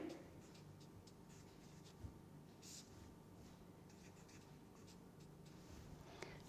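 Pen or marker scratching steadily while a formula is written during a lecture, quiet continuous strokes with a few faint taps, heard close and alone without speech.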